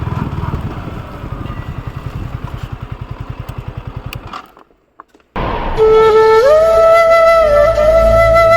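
Motorcycle engine running steadily up close with a pulsing mid-range throb as the bike is parked outside a temple, then a brief near-silent pause before the engine sound returns, louder and steadier with tonal whine.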